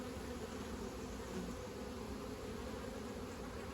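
Honey bees buzz in a steady, continuous drone while a queen is caged with worker bees, a close, even hum that holds without a break and carries no talk.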